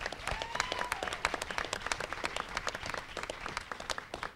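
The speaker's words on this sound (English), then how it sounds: "Big loud applause." An audience at a film festival forum claps in a quick, dense patter of applause, moderately loud and fairly near, with a faint voice briefly heard at the start.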